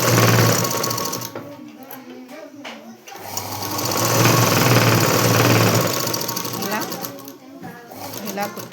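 A sewing machine stitches a normal-cut blouse in loud close bursts of rapid mechanical whirring, pausing briefly between runs, while someone talks over it.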